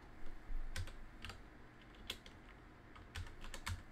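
Keystrokes clatter on a computer keyboard in scattered short bursts, close and fairly quiet, with pauses between clusters of presses while a guide to building an AMD Ryzen OpenCore macOS Catalina USB installer is looked up.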